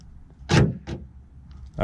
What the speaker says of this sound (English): So let me see if my door lock works.